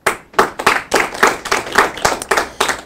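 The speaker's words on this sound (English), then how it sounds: "Please clap for yourselves." Graduating students at a university ceremony applaud, a loud, steady burst of many hands clapping in rhythmic pulses, close and continuous with no voices over it.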